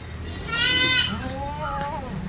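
A crossbred milk goat or its kid bleats loudly and nearby, one long wavering bleat followed by softer calls, with background noise from a farm setting.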